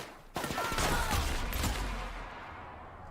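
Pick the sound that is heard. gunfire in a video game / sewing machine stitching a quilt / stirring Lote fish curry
gunfire in a video game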